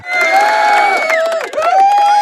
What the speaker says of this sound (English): We don't need you. We have our own applause.